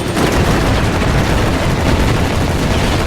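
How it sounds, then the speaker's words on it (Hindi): Anime gunfire as a girl's hair turns into guns and she fires with full power in a cave: a loud, dense, continuous roar of rapid shots filling the whole clip, with no talk. "फिर वो अपनी पूरी ताकत से फायर करती है"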